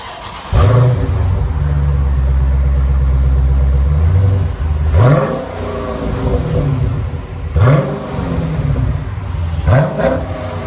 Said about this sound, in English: 2016 Dodge Challenger Shaker 392 Scat Pack. This is what it sounds like before.